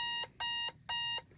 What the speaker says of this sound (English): It's a Morse code key that is hooked up to an oscillator, which will make a beeping sound